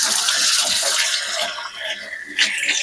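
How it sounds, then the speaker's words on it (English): A kitchen tap runs loud and close during handwashing, a steady hissing splash of water with a brief surge of spattering near the end. "let me wash my hands."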